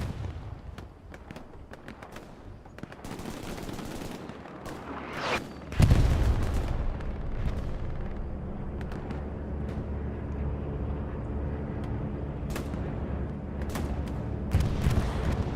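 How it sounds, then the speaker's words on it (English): A bombing run in the World War II shooter Hell Let Loose sends heavy explosions booming across the battlefield, one big blast followed by rumbling aftershocks and scattered distant gunfire. "Let's see how this bomb run works out."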